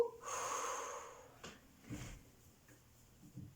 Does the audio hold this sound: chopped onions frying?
no